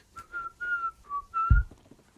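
Someone quietly whistles a Ja Rule song at night: a string of short, close melodic notes with small gaps between them, and a dull low thump under the last phrase.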